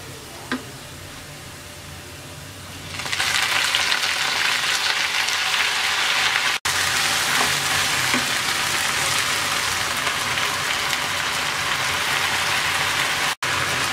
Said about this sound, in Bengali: পেঁয়াজ রসুন ভেজে নেওয়ার পর দিয়ে দিচ্ছি পাট শাক।